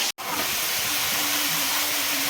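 Vegetables sizzle in hot oil with cumin, a loud, continuous hiss that begins abruptly after a brief gap and holds steady with no talking.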